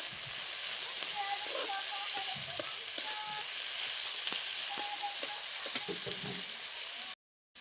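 Onion frying until red in a pan on a wood-fired clay stove, a steady close sizzle and crackle with scattered stirring clinks and scrapes throughout, cut off briefly near the end.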